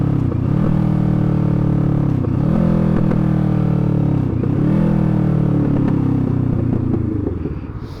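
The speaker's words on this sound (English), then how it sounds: "the pops are sounding nice on the bike right now" Motorcycle engine running steadily while riding, with a loud, continuous exhaust drone and a few sharp crackling pops breaking through roughly every one to two seconds, fading slightly at the end.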